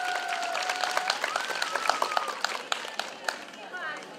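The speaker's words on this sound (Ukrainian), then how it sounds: "оплески Вероніці!" Audience clapping for a girl named Veronika at a Trinity (Green Holidays) folk celebration, with dense hand claps through the whole stretch and tonal vocal sounds or music running underneath, moderately loud and fairly near.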